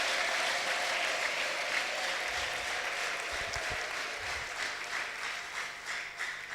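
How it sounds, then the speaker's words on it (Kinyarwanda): A church congregation applauds in praise, a sustained, even roar of clapping that holds steady and then thins slightly toward the end, with a few low thumps partway through. "Tuyiha amashyi tubikuye ku mutima"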